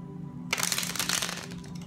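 Tarot cards shuffled by hand for a reading, a sudden burst of crisp riffling and flicking that starts midway and runs for about a second, then tapers into softer rustling over a faint steady hum.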